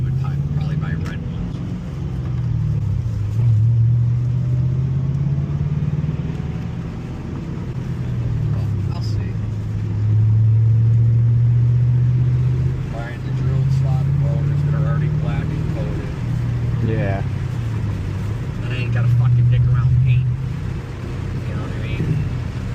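Ford Mustang GT with a manual gearbox, its V8 exhaust burbling and droning steadily from inside the moving car, rising and falling with throttle, while people talk over it.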